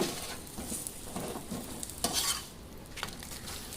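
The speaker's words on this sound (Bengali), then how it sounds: "দেখতেই পাচ্ছ আমি সাদা তেল দিয়ে এগুলো ভাজছি" Petai paratha fries in white oil in a pan, a close, steady sizzling hiss with bursts of louder crackle as the flatbread is pressed and turned.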